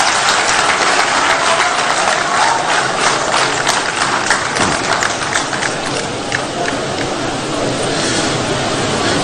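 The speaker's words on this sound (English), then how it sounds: "Let's clap for him." A crowd claps steadily at a National Democratic Congress political event, a dense wash of applause that holds strong for several seconds before easing slightly toward the end.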